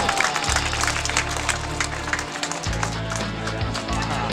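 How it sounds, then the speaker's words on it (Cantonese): Guests at the grand opening of the I-Concept Optical shop break into warm applause for the couple, a dense sustained patter of clapping over a low background hum. "不如我哋咧以個熱烈嘅掌聲祝賀恭賀晒我哋一對主角啦！"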